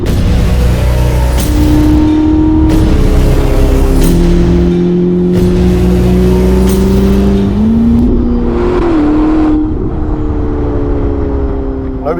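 A 1109 hp Novitec Ferrari SF90 drives on tarmac, its engine loud and close, revving and climbing through rising pitches with sharp upshift breaks, running continuously across the stretch under occasional talk.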